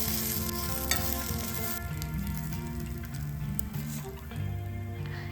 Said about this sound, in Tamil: 4 காஞ்ச மிளகாய், 1/2 கப் அளவு தேங்காய், இதெல்லாம் போட்டு நல்லா வதக்கிக்கோங்க ஒரு 5 நிமிஷத்துக்கு.